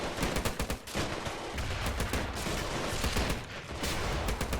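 Rapid bursts of Vickers machine gun fire in a WWII desert battle video game, dense continuous rattling shots with brief pauses, loud and close.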